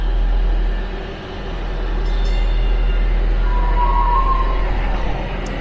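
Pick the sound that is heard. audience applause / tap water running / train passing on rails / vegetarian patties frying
train passing on rails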